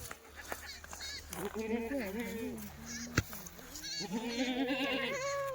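A Kathiawadi goat bleats in long, wavering cries, two drawn-out calls close by, with a sharp knock between them and faint background noise.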